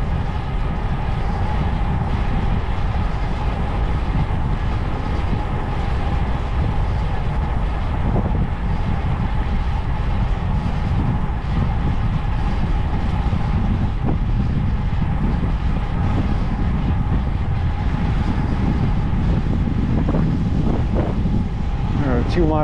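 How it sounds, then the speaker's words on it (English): Strong wind buffeting the microphone during a sunny ride, a continuous loud low roar with gusty rumble that never lets up. "Crazy wind."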